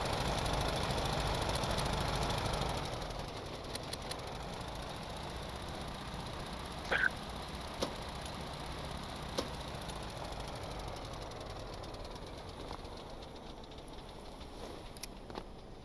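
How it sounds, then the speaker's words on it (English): Boat engines in the Stormworks video game drone loudly and then drop away after about three seconds, leaving a lower, fainter hum with a few light knocks and clicks scattered across the quiet. "let me just cut my engines real quick"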